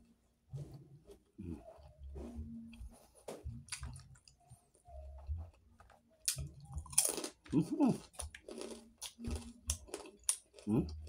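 Close, crunchy chewing of sweet potato leaves with wet mouth sounds, in irregular bites, alongside some faint low talking.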